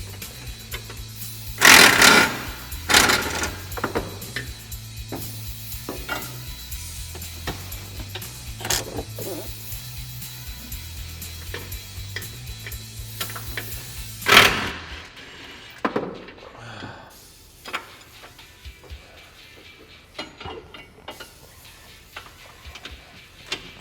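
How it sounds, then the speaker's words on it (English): A wrench turns the nut off an 18mm bolt through the rack and pinion of a Can-Am Maverick X3, giving a steady run of quiet ticking clicks, then a few louder knocks and a sparser, fainter stretch. "put a wrench on the head of our 18mm bolt going through our rack and pinion, and then remove the nut on the inside of the machine"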